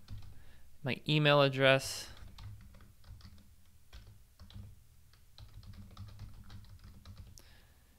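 Soft, uneven keystrokes on a computer keyboard fill in a login form, fairly quiet and close after a brief spoken phrase.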